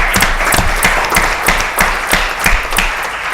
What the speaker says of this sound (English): Give him a round of applause for a great job they did posting that.